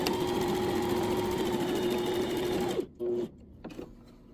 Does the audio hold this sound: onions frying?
no